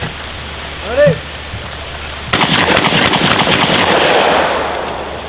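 A single loud blast from an Emperor MX5 12 gauge shotgun fired outdoors in the rain, a sharp report that sets off a long burst of broadband noise with steady rainfall around it.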